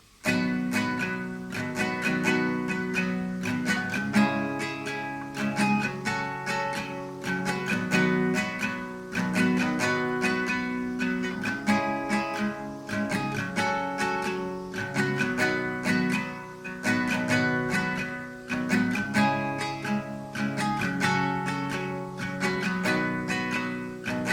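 An acoustic guitar strums the bridge chords of a song in a steady, even rhythm, close and moderately loud, with no voices.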